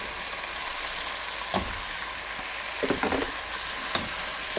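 Pork sizzling and frying steadily in a pan for a Filipino binagoong dish, with a few louder stirring scrapes and clatters breaking through the continuous close crackle.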